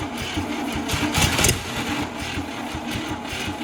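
An old 1956 Chevy farm-find engine cranking and catching, heard as a loud continuous mechanical churn that surges briefly near the middle, then settles into a rough, steady run close by.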